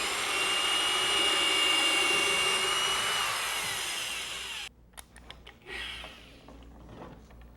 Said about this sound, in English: find a spot, start my drilling, and go down